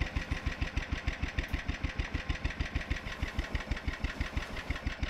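A vehicle engine from the video game Hide and Hold Out idles with a fast, even chugging pulse, steady and fairly quiet, heard on its own.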